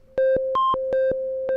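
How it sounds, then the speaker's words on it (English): A Pittsburgh Modular synthesizer's oscillator 2 sine wave runs straight into a Pony VCF, playing a short sequence of clean sustained tones with one higher step, each note starting with a soft click, loud and alone. "So we have the sine wave coming out of oscillator 2, and it's just going straight into Pony VCF"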